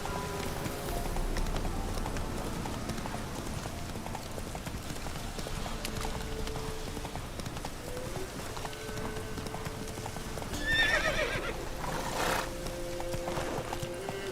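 A horse in the video game The Witcher 3 runs with a steady clip-clop of hooves and whinnies now and then, close and fairly loud over ambient game sound.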